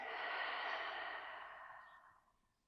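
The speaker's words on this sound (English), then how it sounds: "And a slow, long breath out." A slow, long exhalation close to the microphone, a soft steady breathy rush that gradually fades away over about two seconds.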